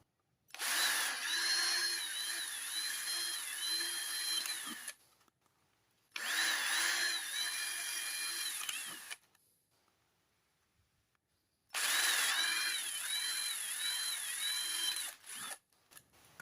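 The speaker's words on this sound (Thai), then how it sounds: "แล้วก็มาเจาะฝาอีกทีครับ" A power drill bores a hole in a lid in three long whirring bursts, each several seconds, separated by short pauses; close and loud, with no talking.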